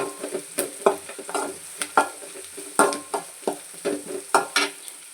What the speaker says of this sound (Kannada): ಕರಿಬೇವಿನ ಸೊಪ್ಪು ಮತ್ತು ಹಸಿಮೆಣಸಿನ್ಕಾಯಿ ಹಾಕ್ಕೊಂಡು ಚೆನ್ನಾಗಿ ಫ್ರೈ ಮಾಡ್ಕೊಳ್ಳಿ